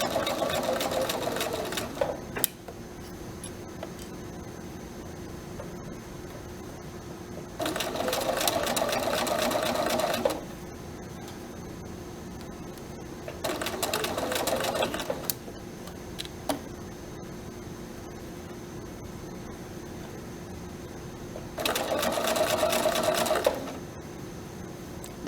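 A sewing machine stitching curved fabric, running in four separate bursts of a few seconds each, close and steady, with quiet pauses between them.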